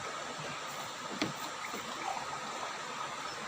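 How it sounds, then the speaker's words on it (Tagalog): A glass of water poured into a cooking pot for sinigang makes a steady, close splashing rush that runs evenly throughout, with no talk over it. "Siyempre po, nilalagyan po natin ng isang basong tubig."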